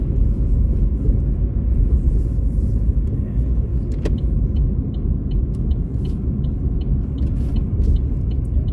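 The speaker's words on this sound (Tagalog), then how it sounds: "May mga nakasabit-sabit na na ice sa may fender ng aking car, ng aking gulong, bandang gulong, kaya may natunog." A car drives through a downtown area in freezing rain with ice hanging near its fender and tire, giving a steady loud low road rumble under faint ticking and rattling.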